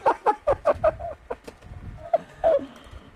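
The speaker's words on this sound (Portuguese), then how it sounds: "Olha os pintinhos." Chickens and chicks at a house cluck in a quick series of close, loud calls, then a few scattered clucks after a short pause, with no talk over them.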